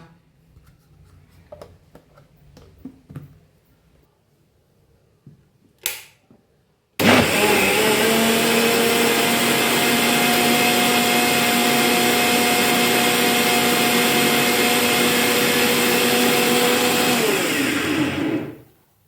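A kitchen blender whirs loudly at a steady pitch for about ten seconds, mixing milk and sugar for a Ramadan sherbet, after a few quiet clinks and handling sounds, then winds down abruptly.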